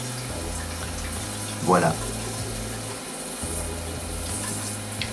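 Water from a Japanese toilet bidet spraying steadily with a low pump hum underneath, a brief splashy burst partway through, while a person speaks briefly nearby.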